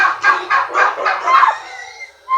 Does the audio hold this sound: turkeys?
yes